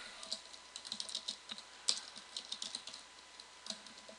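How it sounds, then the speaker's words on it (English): Quick, uneven bursts of keystrokes clack on a computer keyboard, close and quiet, with short pauses between clusters of taps and no voices. "You can see as I'm typing in the story editor"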